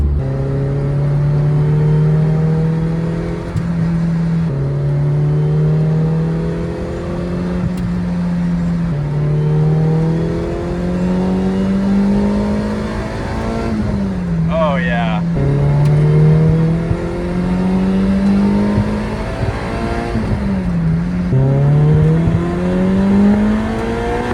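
A Toyota MR2 drives along with its engine revving up and down through repeated gear shifts, the pitch climbing and dropping in a steady cycle, heard from inside the car with people talking.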